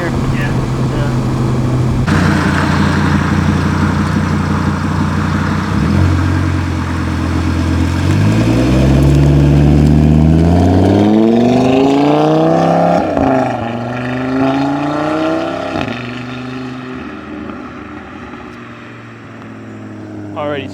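Audi TT RS or RS3 fitted with a CTS turbo intake, heard from inside the cabin: a loud engine note climbing and falling in pitch through acceleration, with a steady drone underneath.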